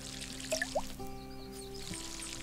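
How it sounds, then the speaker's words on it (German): Watering plants in the Garden Simulator video game: a soft, continuous pouring trickle of water runs under steady game background music, with a couple of brief chimes early on. "Jetzt müssen wir hier nochmal gießen."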